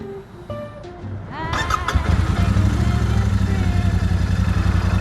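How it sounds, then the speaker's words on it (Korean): A Royal Enfield Super Meteor 650 cruiser motorcycle's engine cranks briefly and then fires into a steady, loud, resonant idle with a deep pulsing rumble, close by and without talk. "같은 650이지만 컨티넨탈 GT보다는 확실히 엔진 시동의 공명감이 느껴지고 있는 느낌이 듭니다"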